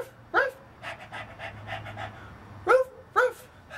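A person imitates a dog with a few short vocal barks and panting sounds, two quick barks near the end, close and fairly clear with little else around.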